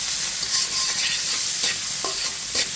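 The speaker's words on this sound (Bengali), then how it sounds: "এখন আমি চিংড়ি মাছটা একটু ভেজে নিচ্ছি" Shrimp seasoned with salt and turmeric fry in hot oil in a kadai, giving a close, steady crackling sizzle broken by a few sharp stirring scrapes, with no talking.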